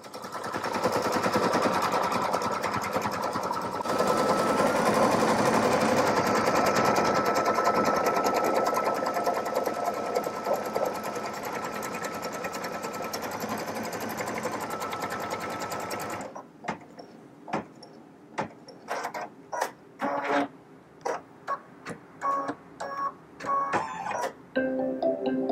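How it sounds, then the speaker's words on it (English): A Brother Stellaire XE2 embroidery machine stitches out a design, a steady fast mechanical whir for about sixteen seconds, then lighter, quieter intermittent stitching ticks and pauses as the needle works on. "The machine's going to embroider everything out for me. Notice how super quiet that it is."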